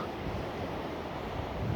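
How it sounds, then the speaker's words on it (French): Sea surf and wind outdoors, a continuous broad rushing roar with gusty buffeting on the microphone that builds slightly toward the end. "j'espère par la même occasion que vous entendez bien la mer"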